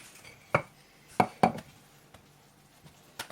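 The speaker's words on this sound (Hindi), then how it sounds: "थोड़ा सा इसके ऊपर ये रोलिंग पिन से थोड़ा सा इसको बराबर करेंगे" A rolling pin flattens a stuffed aloo paratha on a board, making a few sharp wooden knocks and taps spaced irregularly, close and otherwise quiet.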